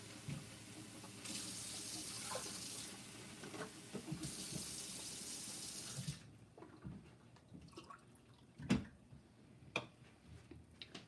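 A kitchen tap runs warm water into a container for baking prep, a steady hiss for about six seconds that then stops, followed by quiet clinks and handling noises.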